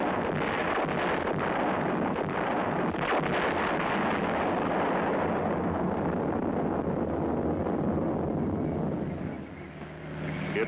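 Heavy field artillery firing, a continuous loud roar of blasts and rumbling with wind-like broadband noise throughout, no clearly separated shots, easing slightly near the end.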